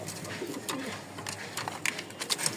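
A pair of Bokhara pigeons coo softly in a loft, low gentle calls repeating amid faint background noise, with no talk over them.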